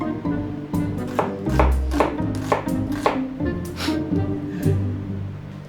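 Onions are chopped with a knife on a board in a rapid, loud run of close, repeated chops with a few short pauses between bursts.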